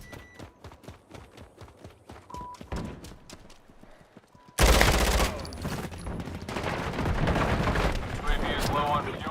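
A deployed sand turret in a video game fires rapid, crackling bursts at first, then breaks into a loud, dense barrage of gunfire and explosions that carries on to the end.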